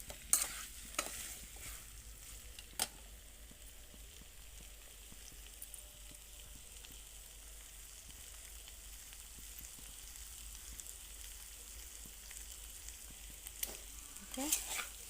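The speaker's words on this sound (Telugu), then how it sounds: "చికెన్ మొత్తంగా కలిపేసి" Chicken curry sizzles quietly in a pan while it is stirred and mixed, with a soft, steady frying hiss and occasional scrapes and clinks from the spoon against the pan.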